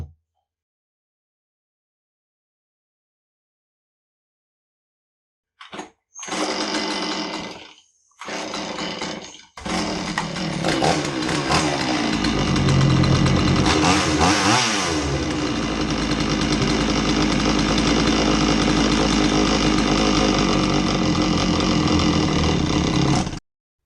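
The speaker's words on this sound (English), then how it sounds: "the Poulan 3300 chainsaw that wasn't running so good and needed a carb kit" A Poulan 3300 chainsaw, just fitted with a carb kit, coughs through a few short starting bursts, then catches and runs loud and close, revving and holding a steady roar with no talk.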